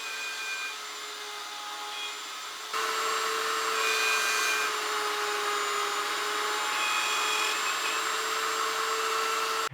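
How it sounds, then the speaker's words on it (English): Horizontal mortiser cutting mortises in thin wooden rails and posts for a shoji lamp, a steady whining motor drone with a cutting hum, louder after a shift a few seconds in, running continuously without talk. "I'm going to use my horizontal mortiser."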